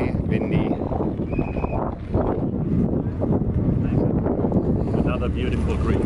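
Strong wind on a Greek island buffets the microphone with a constant roaring rumble, while a person speaks over the gusts.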